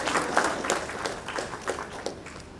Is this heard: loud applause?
yes